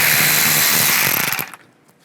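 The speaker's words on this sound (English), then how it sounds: "Take these two screws out here, use a 7mm socket." A power tool with a 7mm socket backs screws out of a 2010-2016 Buick LaCrosse bumper area, a loud close whirring burst that runs steadily, then stutters and cuts off into quiet.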